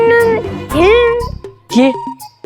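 A man imitates a horse's neigh with his voice, producing loud, wavering, pitch-sliding whinny cries in a couple of bursts, close and alone.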